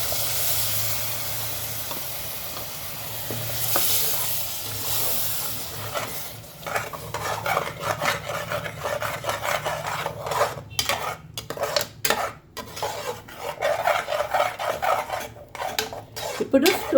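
Tomato frying with turmeric and ginger-garlic paste in oil in a pan, a constant sizzle under repeated clinking and scraping of a metal spoon against the pan, close and busy for the whole stretch.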